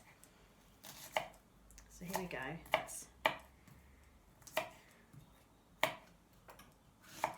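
Onion being chopped with a sharp Japanese knife on a chopping board: a series of crisp, separate knife strikes in an uneven rhythm, close and clear, with a brief spoken line near the start.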